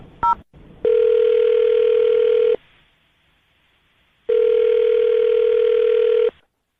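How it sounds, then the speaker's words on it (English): A phone number is dialed on a telephone: a short keypad tone, then two long steady ringback tones separated by a pause, loud and close with no talking. "I'm going to dial his phone number right now"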